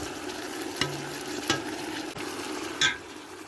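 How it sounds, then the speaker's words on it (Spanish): Oxtail pieces and their juices going into a hot pot of reduced vegetables, a close, steady sizzle with a few sharp clinks and scrapes of a spoon against the pot, no voices. "vamos a ir agregando los trozos de rabo de toro. Así como todo el jugo que ha quedado en el plato."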